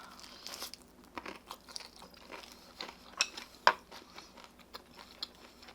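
Crunchy maple-glazed Korean fried chicken is bitten and chewed up close, a series of sharp crisp crunches and crackles in an irregular rhythm, quiet apart from one louder bite.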